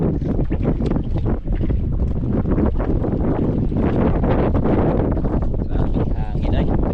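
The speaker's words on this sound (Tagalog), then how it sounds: "Grabing hangin ay." Strong wind blows outdoors near the water, roaring and buffeting the microphone steadily throughout, with voices faintly mixed into the rush.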